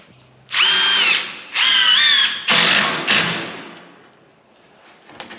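A power drill drives screws into a door framing board, sounding as four loud, close whirring bursts that each end with a short tail, with quiet pauses between them.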